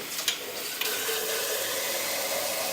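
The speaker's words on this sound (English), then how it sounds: "rinse and drain them quite well" Soaked almonds are rinsed under a running tap spray, a steady rush of water with a couple of small knocks at the start.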